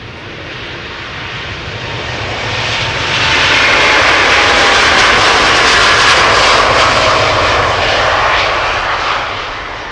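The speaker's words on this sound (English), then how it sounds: "KLM flight 601 to LAX, coming this way, 787-10 Dreamliner" A KLM Boeing 787-10 Dreamliner jet on a flight from Amsterdam Schiphol Airport to LAX roars loudly and steadily as it passes near. The engine noise swells to a peak midway and then eases slightly, with no voices.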